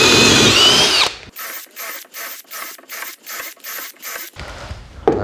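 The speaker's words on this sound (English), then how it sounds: "So I have the Kobalt here, the 1/2 inch drill bit. We're gonna perform 10 holes with it" A Kobalt 24V cordless drill bores a series of holes with a 1/2 inch bit, about eight short whirring bursts in a steady rhythm separated by brief pauses, loud and close, with other noise before and after.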